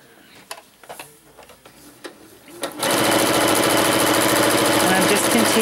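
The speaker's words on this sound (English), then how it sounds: "Playing my sewing machine music." Quiet handling and soft taps lead into a domestic sewing machine with a quarter-inch foot running steadily over quilt pieces, a loud, close, continuous rhythmic whir.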